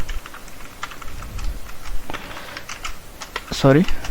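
Quick clicking keystrokes on a computer keyboard while JavaScript code is typed, a steady patter of light taps with a brief voice near the end.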